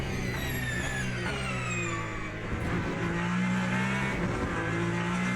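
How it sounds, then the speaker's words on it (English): Ferrari 499P hybrid hypercar in Le Mans Ultimate, engine note dropping through downshifts with a high electric whine sliding down over the revs, then a sustained pull with rising tones, loud and close, no talk. "The hybrid sound as we downshift is fantastic."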